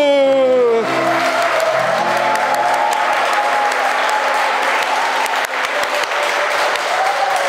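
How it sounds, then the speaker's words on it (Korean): Dense, sustained applause from a congregation at a Catholic parish Holy Spirit seminar in Yongsan, Seoul, steady and full throughout after a sung hymn fades out at the start. "박수."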